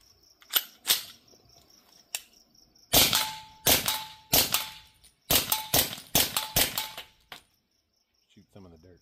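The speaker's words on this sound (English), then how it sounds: "here is the SPC B&T SBR SD version. Shooting 115 grain supersonic" A B&T SPC9 SD suppressed 9mm short-barreled rifle fires 115 grain supersonic rounds outdoors in a rapid string of about a dozen sharp, close cracks with short pauses between groups, insects trilling in the background.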